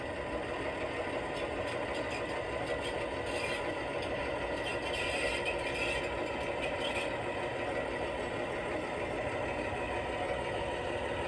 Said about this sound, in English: Put it in reverse now and let's get the engine rolling.